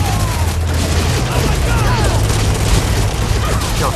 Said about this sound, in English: Artillery fire on our position.